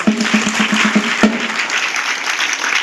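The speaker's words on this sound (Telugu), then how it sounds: "చప్పట్లు కొట్టాలి గట్టిగా." An audience at a live speech event claps loudly, a dense, sustained burst of applause, with a few sharper individual claps near the start.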